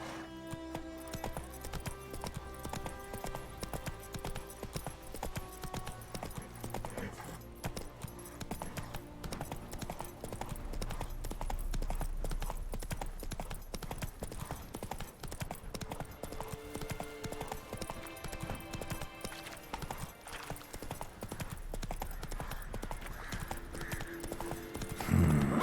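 Roach, Geralt's horse in The Witcher 3, gallops with steady rapid hoofbeats and occasional whinnies over continuous game music, loud and close throughout.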